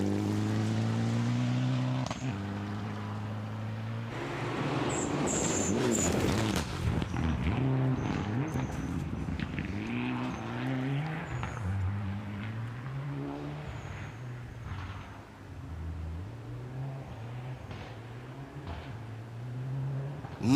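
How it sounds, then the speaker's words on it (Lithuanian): A Mitsubishi Evolution IX rally car roars past at Rally Kėdainiai, its engine rising and falling through gear changes, with sharp anti-lag pops and exhaust backfires crackling loudly before the sound fades into the distance. "taip gražu klausyti tų antilag sistemų riaumojimų, šūvių iš duslintuvo, jungiant pavaras"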